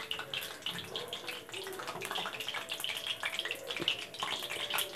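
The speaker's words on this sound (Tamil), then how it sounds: "ஒரு அரை டம்ளர் தண்ணி ஊற்றலாம்" Water is poured into a masala gravy for fenugreek rice, making a continuous splashing, trickling pour with bubbling at moderate level and no talking.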